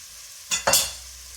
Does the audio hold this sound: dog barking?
no